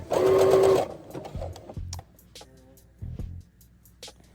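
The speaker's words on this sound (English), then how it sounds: "You always want to start a couple of stitches and then back stitch" A sewing machine stitches through faux fur in a loud, fast burst, then runs a few short, slower back-stitch passes separated by pauses, close and clear with no voices.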